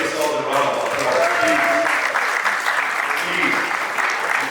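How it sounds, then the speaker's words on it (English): A graduation crowd at the class of 2025 ceremony claps steadily and fairly loudly for several seconds, with a voice talking over the applause. "Please give yourself a round of applause."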